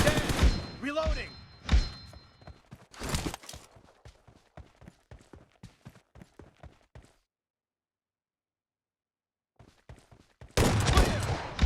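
Shotgun and M416 rifle fire in the mobile game PUBG Mobile, with loud booming shots and rapid bursts of gunfire that thin into a string of sharp single cracks, then a silent gap before another loud volley.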